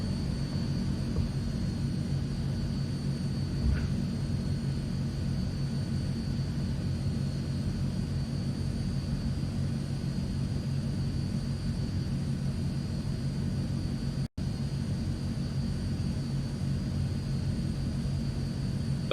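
Transall military transport aircraft taxiing at Ramstein after landing in a flight simulator game, a steady low engine rumble droning evenly throughout with a brief click partway through.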